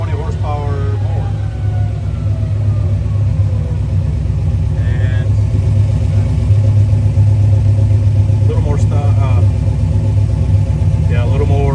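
A Trooper engine on a dyno, tuned with speed density and a throttle body change, holds a steady, loud low drone throughout while people talk over it.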